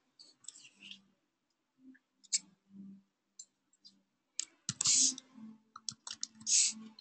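Keys on a computer keyboard clack while code is typed, coming in sparse clicks and then quick clustered bursts, close and clear against silence, with faint murmuring in places.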